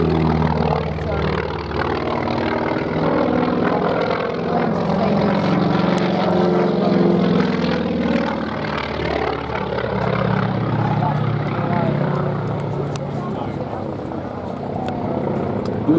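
Grumman Wildcat fighter plane flying at the Duxford air show, a sustained droning piston-propeller engine rumble passing at moderate distance, with a commentator's voice over the public address running throughout.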